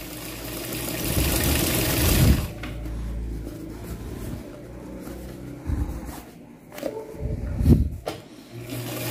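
A sewing machine stitching a trouser hem in short bursts, a rapid mechanical whir that starts, pauses and restarts, with faint handling noises in between and no speech.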